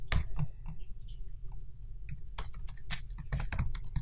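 Fast, close computer keyboard typing, with irregular bursts of crisp key clicks and short pauses over a faint steady hum.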